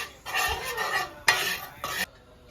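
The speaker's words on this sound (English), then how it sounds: "Pasta boiling." Pasta is stirred in a pot of boiling water, with a few bursts of scraping and swishing against the pot over a soft bubbling background, close by and without talk.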